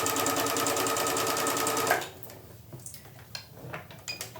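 A sewing machine runs fast and steady while overcasting the fabric edges of a tote bag, then stops at about two seconds. After that come quieter clicks and handling sounds.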